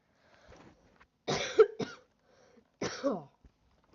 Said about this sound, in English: Sorry if I keep coughing.